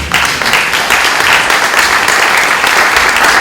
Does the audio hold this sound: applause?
yes